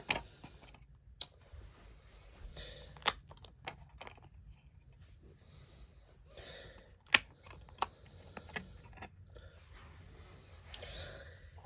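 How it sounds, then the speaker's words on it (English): DVD discs are pried out of fold-over overlapping disc packaging from a SpongeBob SquarePants Complete Fourth Season set, giving sparse, sharp plastic clicks and snaps over a quiet background with faint handling rustle. "So I'm going to go ahead and take each of these discs out."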